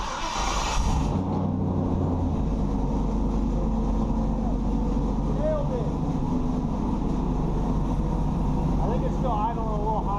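An LS-swapped Ford Ranger engine idles steadily just after its first start, running a little high, a continuous close low rumble with voices talking over it partway through.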